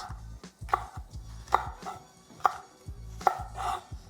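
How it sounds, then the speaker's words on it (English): Knife roughly chopping pimento peppers on a cutting board for Trini-style falafel, a series of firm, evenly spaced thunks about once a second, close and clear with no talking. "Giving my pimentos a rough chop."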